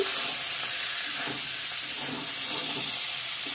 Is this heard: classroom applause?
no